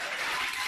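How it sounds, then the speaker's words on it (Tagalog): Brief burst of audience applause at an anniversary special event, a dense wash of many hands clapping together at moderate distance, steady and continuous with no voices over it. "napakalakas naman ng palakpak ng mga tao."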